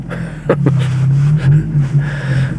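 A car drives past on a race track at a DC5 Integra Type R track day in wintry weather, with a steady, fairly loud engine drone that wavers and swells in pitch.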